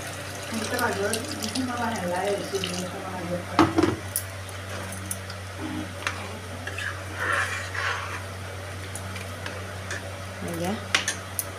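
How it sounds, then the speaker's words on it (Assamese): Hot water added to an Assamese fish curry with chuka greens, a wet splashing pour and stirring in the pot under a steady hum, with a voice talking over it. "ইয়াতে মই এতিয়া গৰম পানী এড কৰিম।"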